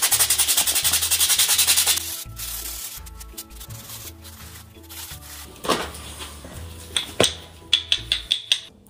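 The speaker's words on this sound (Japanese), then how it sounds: "こんな感じで角を落としていきます" A file rasps in repeated back-and-forth strokes against the corners of a brake pad, rounding them off during a brake pad replacement. The scraping is close and steady at first, then continues in shorter, scattered strokes with a few sharper knocks.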